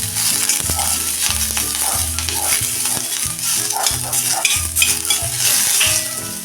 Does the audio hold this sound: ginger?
yes